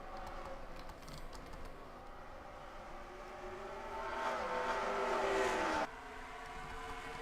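Race cars in a dirt-track stock car racing video game at Bristol, a pack of engines droning steadily with a rising whine that swells louder near the end before cutting back to a lower hum.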